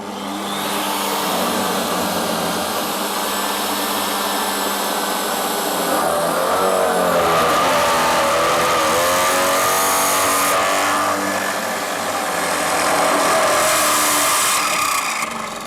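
Parkside PTBM 710 A1 drill press boring into steel with a 13 mm bit: a loud, continuous motor whine and grinding cut, its pitch wavering and dipping as the load changes, with no voices.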